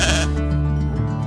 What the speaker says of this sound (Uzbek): Van Truonda o'zining qo'ylar podasi bor.